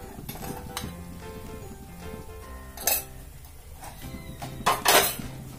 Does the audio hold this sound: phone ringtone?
no